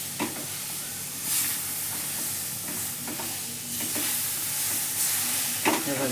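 Mango pulp being mixed in a pan for mango laddoo, a steady soft sizzle with repeated scraping strokes of a spoon against the pan, close and moderately loud, no talking.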